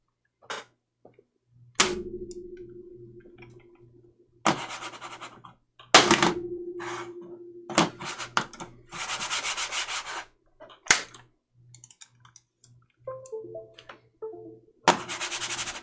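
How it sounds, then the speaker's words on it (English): A faulty computer mouse is slammed and knocked against a desk, giving sharp thunks followed by scraping, rubbing bursts. The impacts repeat irregularly at close range, with short electronic tones near the end and no talk. "My mouse is breaking down. I need to slam it for it to work again."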